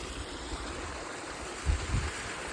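A small stream flows steadily in the wilderness along the Devil's Staircase trail, giving a continuous soft wash of water with two brief low thumps near the end.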